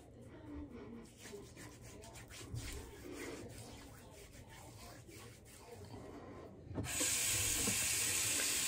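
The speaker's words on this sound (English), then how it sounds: "Run me a little water here because I forgot." Quiet rubbing and handling noises lead into a tap turned on, water running in a steady hiss near the end.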